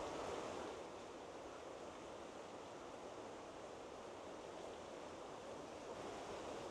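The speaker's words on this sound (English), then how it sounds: "Maybe it's the noise of the water you don't like." Rushing water of a stream near a wooden boardwalk and bridge, a steady broadband wash heard from close by, faint and continuous with no talk.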